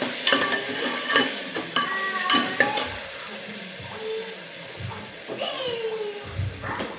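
A spoon stirs eggplant and tomatoes frying in a pan with a steady sizzle and repeated scraping, clinking strokes close by.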